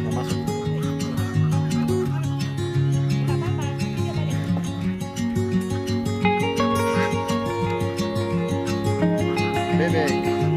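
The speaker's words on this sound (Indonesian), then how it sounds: "Bebek." Ducks on a duck farm in Peniwen, a dense crowd of quacking and honking fowl, loud and continuous throughout.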